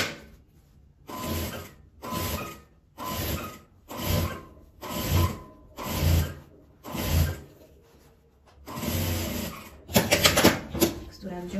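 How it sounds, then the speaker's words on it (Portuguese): A sewing machine stitches a piece made from fabric scraps in a series of short whirring bursts of about a second each, separated by brief pauses, with a faster, harsher run near the end. "Vou começar a costurar ela aqui desse meio."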